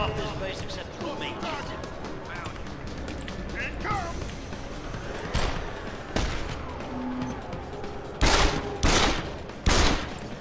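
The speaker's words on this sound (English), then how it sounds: "I fucking love the laser sound" Laser pistol shots in the video game Deus Ex: Human Revolution – The Missing Link, several sharp bursts among busy game noise, with a loud cluster near the end, while someone talks over them.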